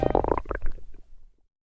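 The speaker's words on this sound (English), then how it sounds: "my stomach growling" Hungry stomach growling in a close, loud gurgling rumble that bubbles for about a second and a half, then fades to silence.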